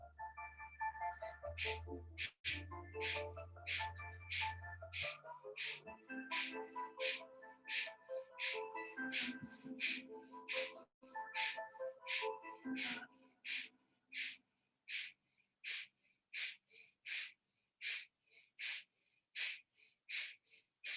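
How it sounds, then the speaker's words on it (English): Breath of fire breathing exercise in a yoga practice, a long series of sharp rhythmic nasal exhalations, first mixed with faint background music, then repeating alone as quick, evenly spaced, close puffs. "Breath of fire."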